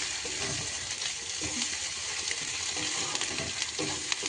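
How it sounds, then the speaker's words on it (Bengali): Ginger garlic paste sizzles and fries in a pan over onions, a continuous soft crackle with occasional stirring scrapes, fairly close and without talk. "দেখতে পাচ্ছেন আদা রসুন বাটাটা ভাজছি।"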